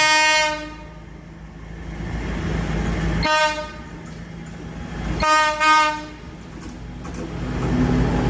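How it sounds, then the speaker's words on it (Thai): A Thai third-class passenger train, number 258, rumbles past while its horn sounds in three long, loud blasts spaced a couple of seconds apart. "อันนี้คือรถไฟขบวน 258 ครับ"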